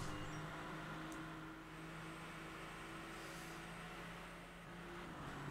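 A car engine in the Driveclub racing game, a faint, steady droning hum with slight rises and dips in pitch, low in level and heard alone.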